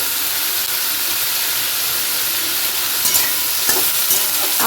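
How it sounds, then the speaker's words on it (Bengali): Potatoes fry in oil tempered with black cumin seeds, a strong close sizzle and hiss with the scrape of stirring and a few louder crackles near the end, no voices. "এখানে শুধু একটুখানি আলু ভাজা করছি কালো জিরে ফোড়ন দিয়ে"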